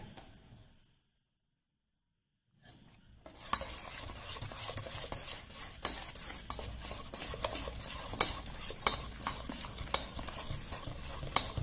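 Wheat flour being stirred into a thick banana walnut cake batter, steady scraping and mixing strokes close by with soft repeated clicks, after a short silent pause at the start.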